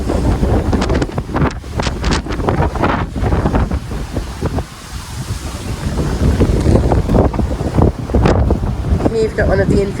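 Strong wind buffets the microphone on the open deck of the P&O cruise ship Iona, roaring loud and gusty for the whole stretch, with a faint voice partly buried underneath.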